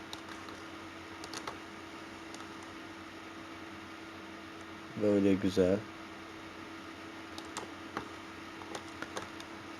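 A short burst of computer keyboard key presses, a quick cluster of clicks in the middle of a quiet room with faint background hum, heard close and brief while a voice speaks briefly.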